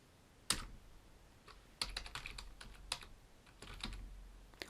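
Code is typed on a computer keyboard in quiet, scattered bursts of close, crisp key clicks with short pauses between them.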